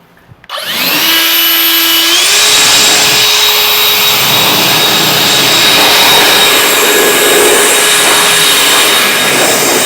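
An Ego cordless leaf blower roars up sharply and holds a loud, steady high-pitched whine as it blasts water off a coated car windshield, with a faint rising tone shift in the motor.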